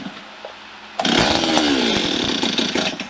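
A Stihl 026 chainsaw, with a rattle from cranking, catches after a second of quiet and roars at close range, its engine revving up and holding a loud, steady whine.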